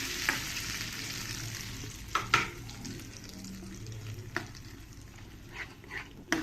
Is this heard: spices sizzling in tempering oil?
yes